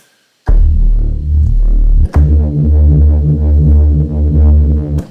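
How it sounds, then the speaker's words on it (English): A loud, sustained distorted synth tone, high-pass filtered before the distortion, with a thick buzzy character and little deep bass, cutting off briefly before resuming. "there's actually a high pass filter in trash before the distortion"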